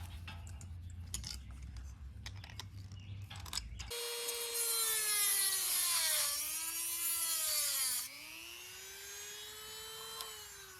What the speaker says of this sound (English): So I'm gonna put the cutter back onto the Dremel, cut this off.